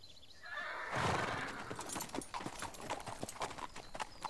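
Horse hooves clip-clop steadily and a horse gives a loud whinny in an animated ranch series, the hoofbeats close and rhythmic after the neigh.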